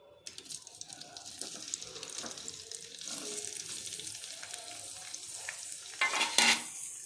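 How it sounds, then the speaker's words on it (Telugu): Bitter gourd pieces sizzle steadily in hot oil for a curry, a continuous close frying hiss with occasional stirring scrapes, swelling louder near the end. "కాకరకాయ ముక్కలు మొత్తం వేసేస్తున్నాను"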